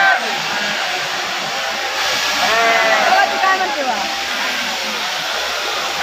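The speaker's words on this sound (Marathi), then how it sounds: "मेंढ्यांची कात्रण सेवा चालू आहे" Sheep bleat repeatedly during a shearing ritual at a temple mutt, several wavering cries close by over a steady whirring hum, with a voice talking nearby.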